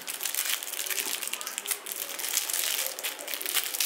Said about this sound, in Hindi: तो मैं इसे यहाँ से फाड़ रहा हूँ